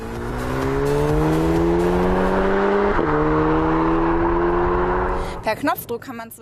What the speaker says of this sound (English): And the sound of the S3's engine is truly seductive.